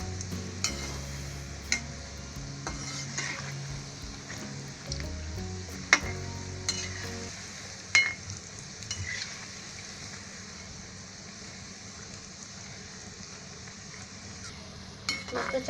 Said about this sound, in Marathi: आता उलटे फिरवले आहे. त्याचा चांगले ब्राऊन कलर होईपर्यंत आहे ना ते आपण फ्राय करायची.